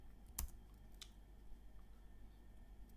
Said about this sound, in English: When I type div like this